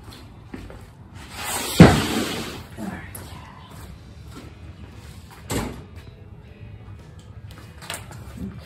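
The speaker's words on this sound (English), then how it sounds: "the door shuts beautifully, opens beautifully" Door of a 1971 VW Beetle under restoration is opened and shut, with one sharp thunk near the start, a softer latch click a few seconds later and a person talking quietly nearby.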